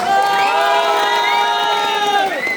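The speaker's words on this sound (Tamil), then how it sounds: "கரகோஷத்தை நீங்க இன்னொரு தடவை கொடுத்தாலும் பழகிக்கலாம்" A crowd at a live concert by South Indian singers in Jaffna cheers loudly, with sustained shouts and whoops rising together close and full, while voices swell and fade.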